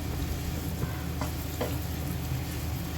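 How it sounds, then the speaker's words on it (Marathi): Semolina and banana roasting together in ghee in a pan, a steady close sizzle with occasional soft scraping strokes of stirring, no voices over it. "रवा आणि केळं आपण छान एकजीव भाजून घेणार आहोत"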